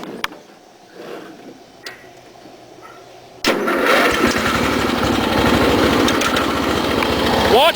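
An old tractor engine cranks and catches after a few quiet seconds, then runs loudly at a steady, rough idle close by.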